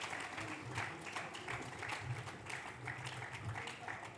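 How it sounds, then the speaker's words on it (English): Continuous audience applause at the Devi Awards ceremony in Bhubaneswar, a steady wash of clapping from a large crowd, heard fairly faint and distant. "please give them a big round of applause for the wonderful work they have done in their respective fields"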